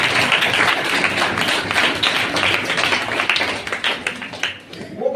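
Schoolchildren clapping loudly in a group during a traffic-rules lesson, a dense, steady patter of many hands lasting throughout before thinning out at the end.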